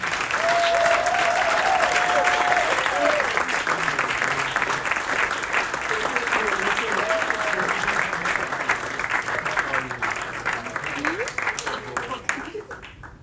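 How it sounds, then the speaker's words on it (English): A live podcast audience gives a steady round of applause for the panelists, loud and dense at first and then slowly thinning, with voices and whoops mixed in. "if we could give a big round of applause for the panelists"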